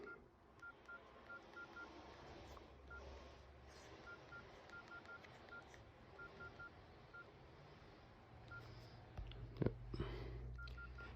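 Keypad beeps from a Nokia 3250, N93 or N95 phone sound as a number is entered, a series of short, evenly spaced tones over a low background hum.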